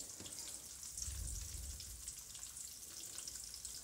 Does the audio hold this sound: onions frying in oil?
yes